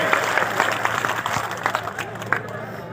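Crowd at an outdoor Congress election rally at a crossroads clapping in welcome, a rough, continuous patter of hands mixed with murmuring voices and a low hum.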